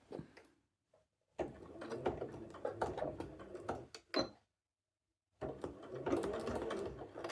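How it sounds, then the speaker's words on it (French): A sewing machine stitches through the fabric edge of a velcro strip in short, fast runs broken by silent pauses, a close mechanical whir and rattle with no talking. "Et donc, je viens coudre dans cette partie tissu."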